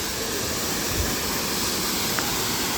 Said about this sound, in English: Water just rushing down and in between the rocks.